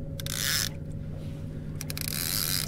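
A fishing reel's drag clicks and buzzes as a fish pulls line, in two short ratcheting bursts over a constant low hum, close and fairly loud.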